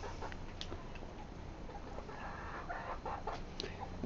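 Backyard hens, two birds, clucking softly and intermittently over a steady low outdoor background, the calls faint and scattered.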